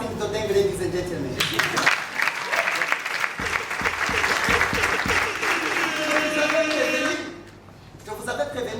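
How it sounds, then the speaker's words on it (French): A theatre audience breaks into sustained applause at a Burundian stage show, a dense wash of clapping that swells in after a couple of seconds, holds steady, then fades, with a voice speaking over it. "Applaudissez pour son casting de dingue"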